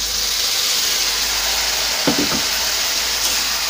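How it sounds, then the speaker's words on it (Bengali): Hot water hits a pan of fried small fish seasoned with chili powder and sets off a loud, steady, close sizzling hiss. A few brief clatters sound in the middle. "আর দিয়ে দেব সামান্য গরম জল"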